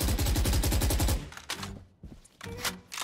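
Rapid automatic gunfire punching through a wall in the Valorant shooter, a loud dense burst for about a second, then scattered quieter shots, thumps and clatter.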